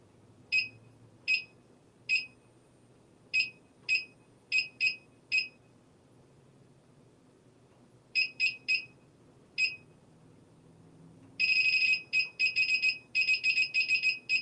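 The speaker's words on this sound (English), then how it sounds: "Sorry for the beeping." A heat press set to 300 degrees Fahrenheit gives short, sharp electronic beeps in scattered pairs and groups, then a rapid continuous run of beeping near the end, clear and close in a quiet room.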